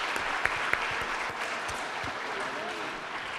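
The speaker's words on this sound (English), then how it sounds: "big round of applause" An audience at a live music night claps steadily in a continuous burst of applause, with a couple of sharper claps standing out near the start.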